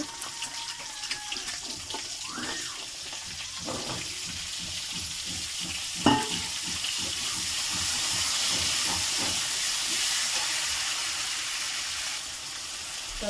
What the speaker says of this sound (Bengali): দিয়ে ভালো করে ভাজা ভাজা করব